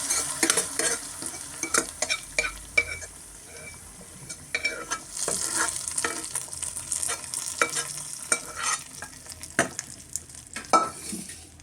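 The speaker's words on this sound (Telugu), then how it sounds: "గ్యాస్ ఆఫ్ చేసి తాలింపు వేసిన పోపు చూడండి." Tempering (thalimpu/popu) poured into a finished dish and stirred with the gas turned off: steady sizzling under repeated clinks and scrapes of a spoon against the pot, close and alone with no talk.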